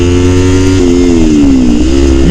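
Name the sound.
Kawasaki Ninja 300 motorcycle engine revving in low gear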